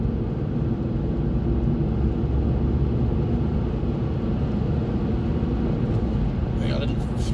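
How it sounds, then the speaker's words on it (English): A 2017 Kia Rio's 1.0 T-GDi three-cylinder engine pulls steadily under acceleration in a low, continuous cabin drone, with faint road and wind noise and a brief voice near the end. "Three-cylinder thrumming away there."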